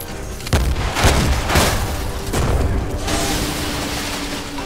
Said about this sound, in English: I am broken except for the one gun that matters. And I will get two shots with it.